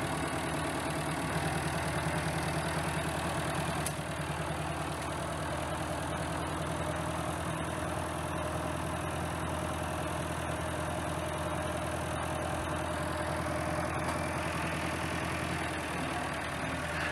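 A tractor engine with Selectamatic hydraulics runs steadily and loudly for the whole span while pulling up shrubs. The even mid-low rumble has a faint knocking texture and no talk over it.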